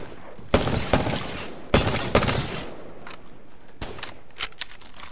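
Video game gunfire, several loud bursts of rapid shots close by, separated by short pauses, with sharp cracking and breaking impacts, with no talking.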